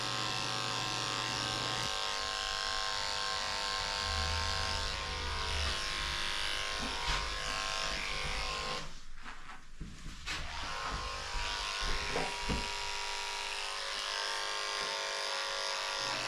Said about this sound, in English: So I'm using a number 10 blade on her, and she doesn't like her tail shaved.